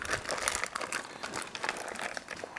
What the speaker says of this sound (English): I'm gonna go ahead and cut this package open.